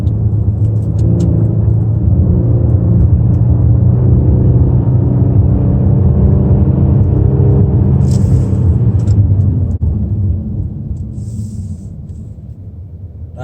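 A 2019 Kia Stinger GT on winter tires powers through a turn, its engine a loud, steady, close rumble that eases slightly near the end, alone without talk.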